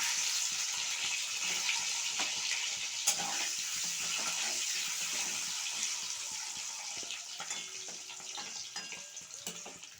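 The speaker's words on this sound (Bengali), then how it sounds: "ডিমগুলো আমি ভেজে নেব" Eggs seasoned with turmeric and salt frying in a pan for an egg and cauliflower curry, giving a steady, fairly loud hiss and crackle that runs the whole time with scattered small pops.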